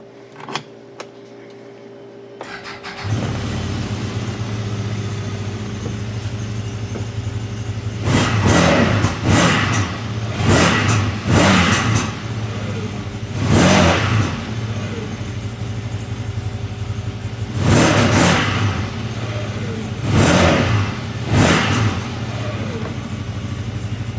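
A CFMOTO engine runs loud and close, rising and falling through a series of sharp revs, roughly six throttle blips spaced a few seconds apart over a steady running drone.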